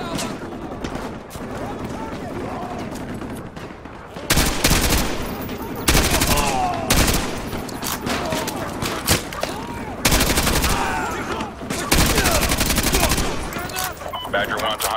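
Call of Duty MW2 Remastered combat: dense bursts of automatic rifle and machine-gun fire, loud and close, in repeated sustained volleys with brief gaps, over a constant battlefield rumble with radio chatter.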